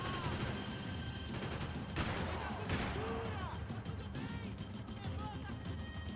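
Gunfire in the video game Max Payne 3, dense rapid bursts of shots crackling amid chaotic game action, with voices talking over the shooting.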